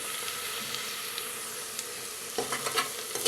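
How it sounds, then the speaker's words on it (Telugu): Onions frying in a pan until browned give a steady close hiss, with a few scraping stirs and sharper crackles toward the end; no one speaks. "ఉల్లిపాయలు బ్రౌన్ కలర్ వచ్చేంత వరకు వేగాలి"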